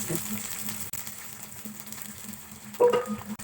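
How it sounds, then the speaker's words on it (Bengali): Small shrimp fry in a pan for a pumpkin and shrimp mash, giving a soft, steady sizzling hiss that continues throughout at a low level, with a brief faint voice near the end. "মাছটা ভেজে নেব"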